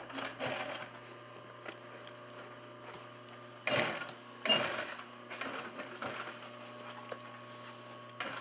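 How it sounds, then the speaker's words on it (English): An upholstery shop sewing machine stitches vinyl, felt and listing pieces for 1964 bucket seats, running in short mechanical bursts of rapid clatter with pauses, steady hum underneath, close and moderate in volume, no voices. "And now she'll be sewing the pieces together."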